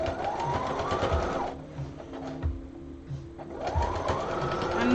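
A sewing machine runs in fast whirring bursts, stitching just below the seam joining a skirt, slowing and briefly pausing midway for a back tack before speeding up again; the sound is close and steady.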